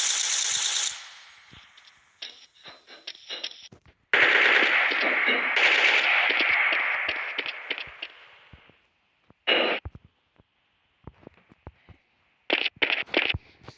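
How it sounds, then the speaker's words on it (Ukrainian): Close gunfire erupts in long, loud automatic bursts, then breaks into shorter volleys and isolated shots separated by brief silences, with no voices. "Пострілюють по мені десь"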